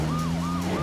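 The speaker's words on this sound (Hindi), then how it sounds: "अरे वो देखो, पीछे पुलिस की गाड़ी।" A police siren wails in a rising and falling sweep, repeating a couple of times over a car engine's steady hum.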